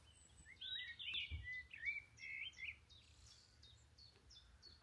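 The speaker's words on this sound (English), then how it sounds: "There's a chiff-chaff singing just there nicely" Small bird song on Steephill Down above Ventnor, Isle of Wight, a chiffchaff singing at moderate distance, a run of short repeated chirpy notes over quiet outdoor ambience, with no talking.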